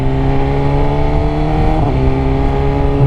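2020 BMW S1000RR motorcycle engine droning loud and steady under acceleration, with a brief dip in pitch near the middle as it shifts up and picks back up.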